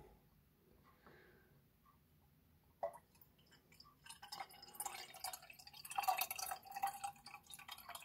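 Water is poured into a glass jar for a homemade shaker jar: quiet at first, then a trickling, splashing fill that grows louder and brighter as the jar fills, heard close and alone.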